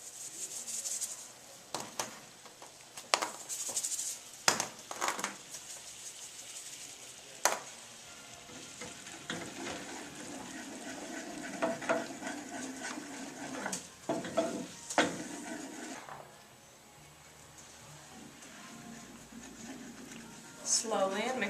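Cream reduced by half is stirred into a sizzling pan with salt and pepper, giving a soft scraping, rubbing and frying hiss under intermittent talk, with sharper spoon clicks scattered through.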